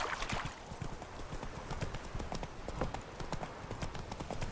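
A horse gallops with fast, steady clip-clop hoofbeats across the whole stretch in The Witcher 3 video game, moderately loud and continuous, with no talking over it.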